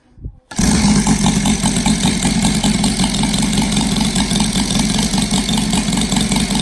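A Saito FG-60 model engine with an R3 intake upgrade, running on a 32:1 fuel mix, is quiet for a moment. It then fires up and settles into a loud, steady, close running drone with no talking.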